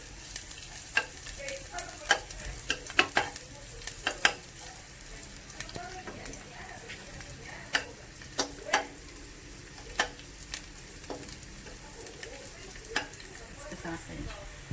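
Minced garlic fries in a pan for Filipino-Italian spaghetti sauce, a soft continuous sizzle broken by frequent sharp clicks and taps of a spoon stirring against the pan.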